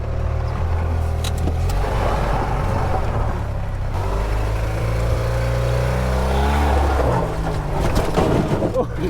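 A short homemade kei truck on its first test drive, its small engine droning and revving steadily close up, with pitch rising and falling through the run.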